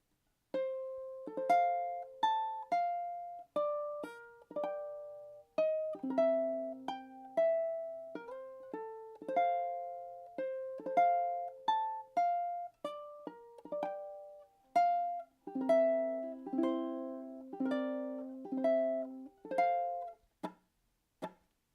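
A plucked ukulele picks out a theme melody in F with chords, notes ringing briefly and steadily in a clear, unaccompanied performance.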